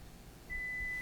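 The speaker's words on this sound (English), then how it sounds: "Only a few seconds to go before the timer should beep" Kitchen oven timer beeping during cookie baking, one faint thin high tone held for about half a second over quiet room noise.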